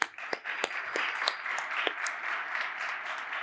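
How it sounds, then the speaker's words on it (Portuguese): An audience at a copywriting course event applauds a guest named Eduardo: a few sharp early claps quickly swell into steady, moderately loud applause from a crowd that continues evenly to the end. "eu queria palmas para o Eduardo aqui"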